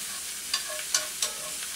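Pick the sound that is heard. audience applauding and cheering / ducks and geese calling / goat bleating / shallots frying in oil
shallots frying in oil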